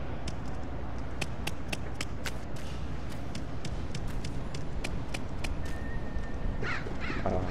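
Birds caw repeatedly in the stealth video game Mark of the Ninja, a run of sharp, clear calls over a low, rumbling game ambience, growing busier toward the end.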